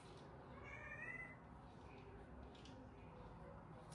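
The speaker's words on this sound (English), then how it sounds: "My cat have started disturbing again, crying, wanting attention." A house cat meows for attention, one faint drawn-out cry early on and then a quieter, softer mew, heard indoors under a steady low background hiss.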